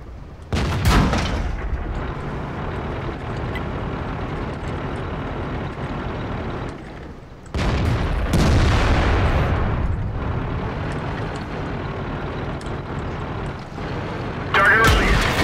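Tank cannon fire in World of Tanks facing an IS-3: heavy booms near the start and around the middle, each followed by rumbling engine and battle noise, with a voice talking over parts of it.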